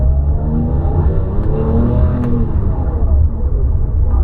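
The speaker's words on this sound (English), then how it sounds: "It's a very distinctive noise when the flywheel drops the revs." A 2003 Porsche 911 3.6 GT3 manual coupe (996.2) holds a loud, close engine note that sustains and shifts in pitch as the revs drop, steady and unbroken over several seconds.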